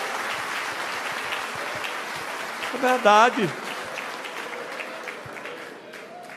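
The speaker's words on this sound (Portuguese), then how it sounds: "Dê uma salva de palmas para Jesus, que é para a gente selar essas coisas." A church congregation claps together in steady, sustained applause that fills the room, while a voice briefly speaks over it partway through.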